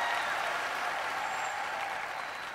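Studio audience on a Thai TV singing competition breaks into loud, sustained applause that slowly tapers off over a few seconds.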